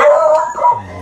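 A dog gives a short, loud, close wavering howl that breaks into a yip and trails off.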